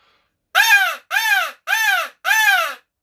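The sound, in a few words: crow call blown to imitate a crow for turkey hunting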